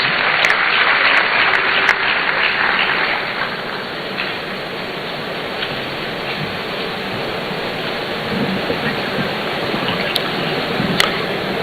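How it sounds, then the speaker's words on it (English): An audience at a student entrepreneurship programme launch applauds as an imam joins to give the closing prayer, a broad, hissing wash of clapping that stays steady throughout, with a few sharp clicks on top. "Let's give him a round of applause as he joins us."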